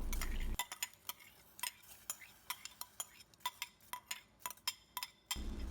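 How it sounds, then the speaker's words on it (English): Soaked rice is stirred into a pot of boiling water with a metal spoon, giving a run of quick, close scraping clinks against the pot over a faint bubbling background. "Mix the rice with water thoroughly."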